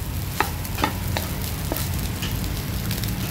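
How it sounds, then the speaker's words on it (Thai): Rice stir-fries with naem fermented pork in a pan, a steady close sizzle broken by quick, rhythmic spatula scrapes and taps, with no talking. "แล้วเราก็จะผัดข้าวไปเลยนะคะ"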